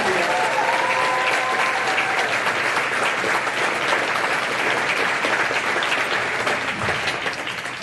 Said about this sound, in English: Please put your hands together for Graham Loud.